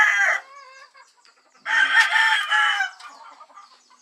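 An Allen Roundhead gamefowl rooster in a backyard gamefarm crows and clucks nearby, a short call at the start followed by a longer loud crow, with quiet gaps between.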